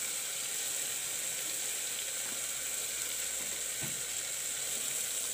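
Masala spices and chopped tomatoes frying in a pan for a channa and potato curry give a steady, faint hiss of sizzling with a couple of soft stirring clinks, no voices.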